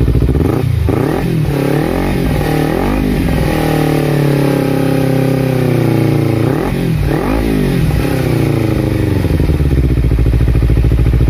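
Kawasaki Ninja 250 FI engine running steadily at idle after a radiator coolant change, with a constant close mechanical drone and a couple of brief throttle blips swelling and falling.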